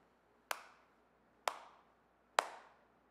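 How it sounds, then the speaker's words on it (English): Three slow, sharp hand claps spaced about a second apart, each ringing out briefly in a quiet room. "That's a slow clap for you"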